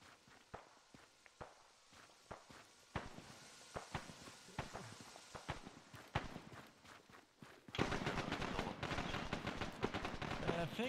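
Arma 3 combat audio with scattered distant shots and thuds that build into a dense, loud burst of sustained machine gun fire in the final seconds.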